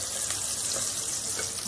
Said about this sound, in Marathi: लसूण आणि अद्रक हे थोडं भाजून घ्यायचं.